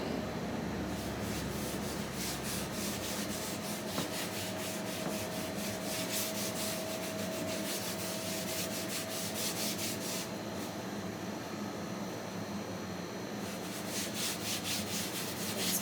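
An old cloth sheet rubs wood stain onto a wooden front porch sign, making a steady, close, continuous scrubbing hiss with rhythmic strokes throughout and no talking.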